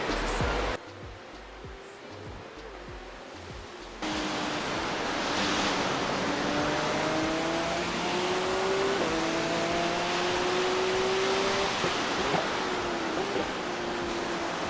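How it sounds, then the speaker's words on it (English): A Porsche Cup racing car engine in iRacing whines steadily at high revs, pitch rising and shifting through gears, over a wash of noisy rushing sound, racing at Spa in the rain. "Car sounds so good."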